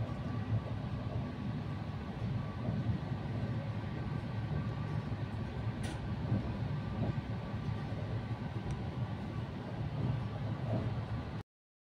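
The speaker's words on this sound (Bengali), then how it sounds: "এই যে আমাদের ট্রেন শিলিগুড়ি জংশনে পৌঁছে গেছে।" A continuous rumble of the 15777 Tourist Express Vistadome train pulling into Siliguri Junction, loud and close from inside the carriage, with one brief sharp squeak midway and no speech.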